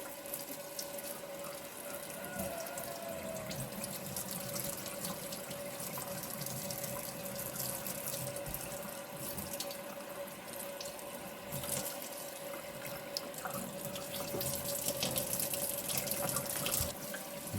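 Tap water runs steadily into a sink while a slab of pork belly is rinsed under it, a continuous close wash with small splashy fluctuations throughout and no talking.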